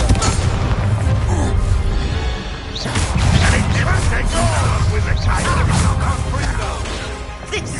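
Confringo blasting spells in Hogwarts Legacy: loud, close booms and crashing impacts burst repeatedly through a noisy duel, with voices shouting over the din.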